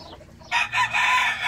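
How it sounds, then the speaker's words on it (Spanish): A white-tailed fighting rooster lets out a loud, close crow after a brief quiet moment, its strained call filling the rest of the short stretch in a farmyard setting. "Hazle un poquito ahí para que lo vean, lo que es el gallo Picochato de la CJ."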